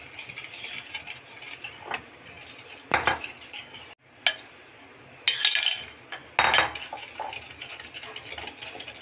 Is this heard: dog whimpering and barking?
no